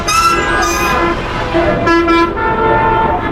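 Car horns toot repeatedly in dense, slow-moving traffic on the way to the Gabtoli cattle market, several honks overlapping near and far over a steady rumble of engines.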